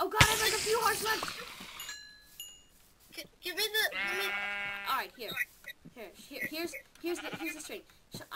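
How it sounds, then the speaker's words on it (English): Sheep bleat in the Minecraft video game, a few wavering calls scattered across the stretch, mixed with game sounds and heard under someone talking throughout. "No, there's some sheep. There's some sheep."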